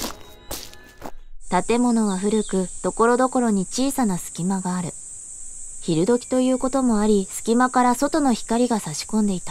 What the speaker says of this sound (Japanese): 外はセミの鳴き声がこだまする。